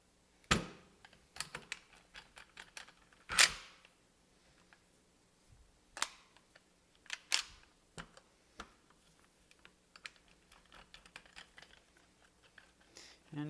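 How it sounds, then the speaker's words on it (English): Metal parts of a Maverick 88 shotgun clicking and knocking as the barrel is slid onto the receiver, a scattered series of sharp close taps and clacks with quiet gaps between them and no talking. "Alright, now we can put the barrel on. It's going to slide down and in."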